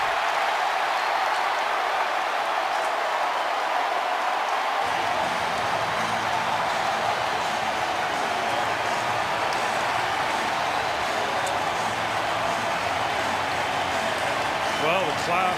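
A football stadium crowd at a Seahawks–Bears game roars after a Devin Hester punt-return touchdown, a dense sustained cheer that surges in partway through and holds steady, with commentators talking over it.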